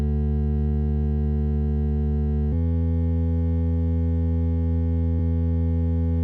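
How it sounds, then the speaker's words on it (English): A Casiotone MT-35 toy keyboard plays a smooth triangle-wave bass tone pitched down an octave, three sustained low notes changing pitch cleanly, alone and steady. "I kind of want that typical IDM bass sound where it's like a triangle waveform of sorts"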